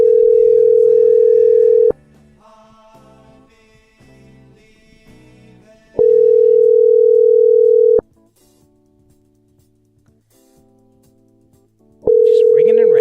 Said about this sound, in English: Just ringing and ringing.